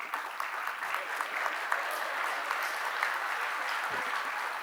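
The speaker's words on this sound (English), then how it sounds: "You are giving an applause." Steady audience applause at a homoeopathic medical conference lecture, an even wash of clapping from a seated crowd at moderate distance with no talk over it.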